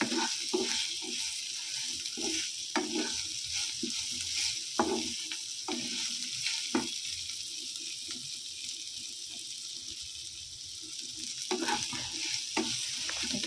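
Curry leaves frying in a pan give a steady soft sizzle, broken by scattered sharp pops and the scrape of stirring, heard close but fairly quiet.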